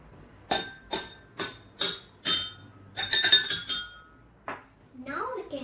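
Glass drinking glasses holding different amounts of water struck one after another, giving about eight bright, ringing clinks at a steady pace that quicken near the end, followed by a short stretch of speech.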